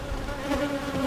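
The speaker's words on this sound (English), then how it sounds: "a few bees up in the top here, but that's a new frame" Honeybees buzzing steadily on a hive frame during an inspection, a close, continuous hum with no talking.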